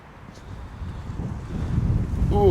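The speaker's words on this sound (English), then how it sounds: "Oh, that wind is cold." Cold wind gusts outdoors in a Premier Inn car park, a rough, rumbling roar that swells louder toward the end, with no talking.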